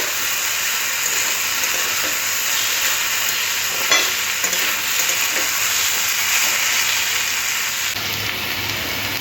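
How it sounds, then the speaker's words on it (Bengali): Long beans and potatoes frying in a pan, a loud, continuous close sizzle with faint stirring scrapes and no talk. "বরবটি আর আলুটা একটু সময় দিয়ে ভালো করে লাল করে ভেজে নিতে হবে"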